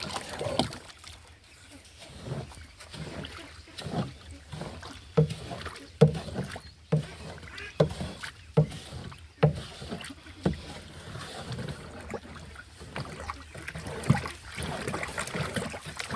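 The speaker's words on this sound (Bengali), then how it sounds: "লবণ আর চিটাগুড় ভালোভাবে মিক্স করতেছি, পরে পুরা পুকুরে এটা আমরা ছিটাই দেব।" Salt and molasses are stirred together into a thick syrupy mix for a fish pond, making rhythmic wet sloshing strokes roughly every second, close and fairly loud, with no talking.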